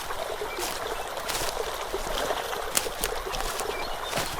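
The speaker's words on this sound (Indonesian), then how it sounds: "suara gemericik air terjun menyapa telinga" Water splashes and rushes down the Curug Walet waterfall in lush forest, a steady broad hiss of falling water at moderate level with small splashy bursts and no talk.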